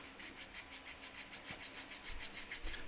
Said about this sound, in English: so you can get really good results with sanding it